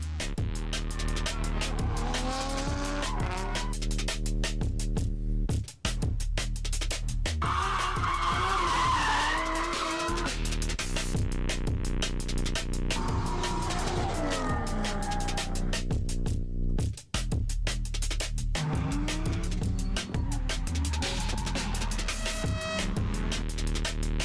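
Drift cars at a Top 16 competition at Rad Torque Raceway scream through long tire squeals and skids over roaring engines, loud and continuous with shifting pitch.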